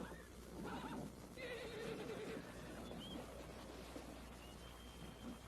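A horse neighs in a loud whinny over clopping hooves, faint and somewhat distant against a low steady background hum, with no voices.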